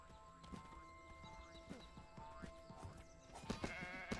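Sheep bleating inside the SkySaga video game, mixed with clip-clopping hoof sounds and other farm-animal noises over steady in-game ambience, with several short calls that grow louder toward the end.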